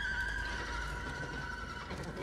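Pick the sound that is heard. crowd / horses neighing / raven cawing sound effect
horses neighing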